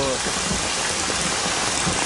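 Rain falling in a Hindi action film scene, a dense, steady hiss of drops that fills the whole short stretch at even loudness.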